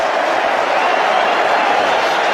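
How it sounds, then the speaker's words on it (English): A cricket stadium crowd at a tense T20 international roars in a steady, unbroken wash of noise, loud and continuous throughout with no single voice standing out. "And the crowd are rising to this too"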